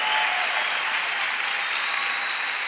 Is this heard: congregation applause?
yes